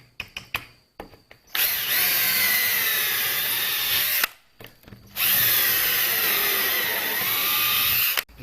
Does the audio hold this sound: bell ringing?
no